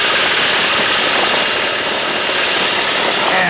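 A T-6 Texan warbird's radial engine runs up loud and steady as the throttle opens for takeoff at Kissimmee, Florida, a dense continuous roar with no voices over it.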